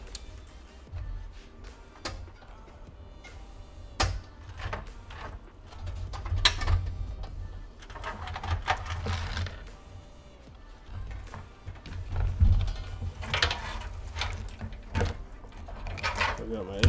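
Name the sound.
screws being removed while building a PC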